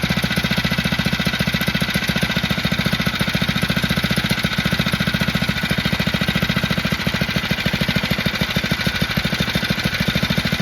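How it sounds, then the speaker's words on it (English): A small Phatmoto bike engine idles steadily after starting with the choke off, a loud close rapid putter with a constant, even rhythm throughout. "With the choke off, I start it and it starts right up."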